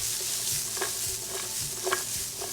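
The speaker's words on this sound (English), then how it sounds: "I'm gonna add peppers. Give it a quick saute." Onions and peppers sautéing in hot oil give a steady, close hiss and crackle, with a few soft stirring scrapes and clinks rising over it.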